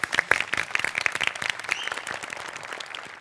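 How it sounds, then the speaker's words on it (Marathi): A studio audience at a Marathi comedy show breaks into steady, dense applause, many hands clapping together at close range for about three seconds with no speech over it. "टाळ्या."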